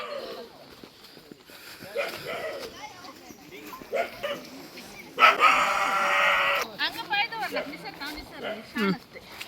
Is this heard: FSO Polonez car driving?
no